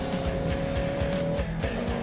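A Koenigsegg supercar on track testing and tuning, driving with a steady engine drone and a sustained tonal whine, and repeated rhythmic rumbling pulses close by.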